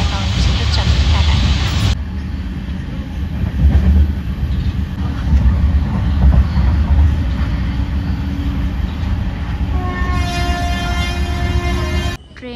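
A moving train rolls past Khurda Road station with a continuous rumble and clatter of wagons heard from on board, faint voices beneath it, and a horn blaring loudly near the end.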